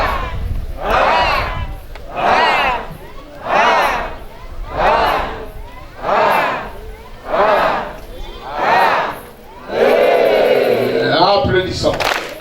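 A youth festival crowd chants and shouts together in loud rhythmic bursts, about eight swells roughly a second and a half apart, ending in a longer sustained roar of voices.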